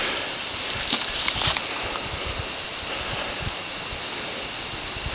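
Fall Brook, running low at the falls in Tioga, Pennsylvania, makes a steady, soft broadband rush of flowing water with no break throughout.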